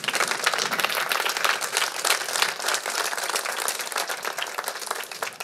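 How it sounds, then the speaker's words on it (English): Audience at an arts community event's welcome remarks applauds in a steady, even round of clapping lasting the whole stretch, many hands together, moderately distant. "So I want us to put a big round of applause for the sponsors"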